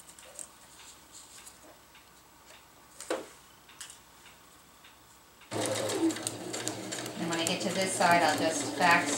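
Sewing machine back stitching across a winter tarp seam, a dense steady whirring burst that starts partway through after a quiet stretch with faint ticks, fairly close and loud.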